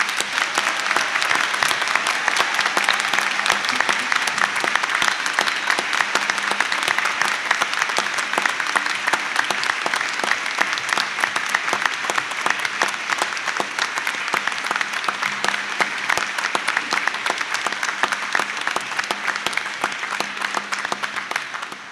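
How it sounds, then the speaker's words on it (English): A hall full of people at a graduation ceremony applauds continuously, a dense, even roar of clapping that stays loud and close throughout with no break. "just to give them a fantastic round of applause"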